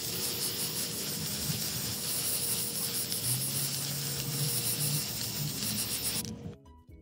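Rust-Oleum white gloss spray paint hisses steadily from an aerosol can onto a burner cover, a continuous close spray lasting about six seconds before cutting off abruptly.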